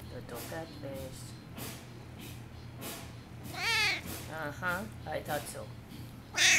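A house cat meows several times, with rising and falling cries mostly in the second half, mixed with a person talking to it nearby.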